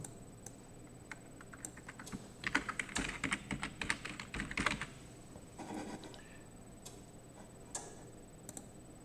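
Fingers tap a computer keyboard in a quick cluster of clicks, then a few scattered keystrokes, close and fairly quiet.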